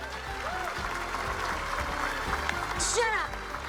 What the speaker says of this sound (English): I don't need your clapping, you jerks.